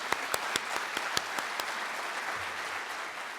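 Audience at a city's State of the City presentation applauding, a soft, somewhat distant wash of clapping with a few sharp nearby claps standing out early before it settles and thins.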